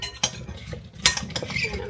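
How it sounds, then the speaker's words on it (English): A spoon stirs sliced apples with lime and lemon juice in a bowl, giving a few sharp clinks and scrapes against the dish, close and fairly loud, with quieter rustling between strokes. "I'm just going to stir it as I put more apples in there"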